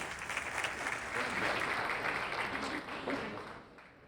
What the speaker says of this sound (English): I would love it if we could give a warm round of applause for our panelists